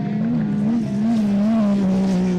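Rallycross race cars at a round of the 2025 BTRDA championship, an engine droning loud and close at a steady, slightly wavering pitch while the tyres work hard under load.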